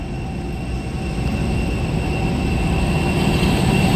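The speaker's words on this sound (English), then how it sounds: "We have a freight," A freight train hauled by locomotives passes at Wolli Creek. It makes a loud, steady rumbling roar with metallic ringing wheel tones that build slightly as it goes by.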